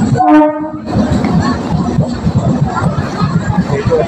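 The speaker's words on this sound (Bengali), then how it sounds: "ট্রেন ঢুকে পড়েছে, তা ট্রেনটা ঢুকছে," A train pulling into a station at Katwa sounds a short horn blast, then rumbles and clatters steadily nearby amid platform crowd noise.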